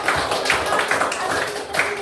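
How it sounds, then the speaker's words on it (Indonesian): Applause for the Bethlehem group in a classroom, a loose patter of hand clapping repeating in a steady rhythm for about two seconds, with voices mixed in. "Tepuk tangan untuk kelompok Bethlehem"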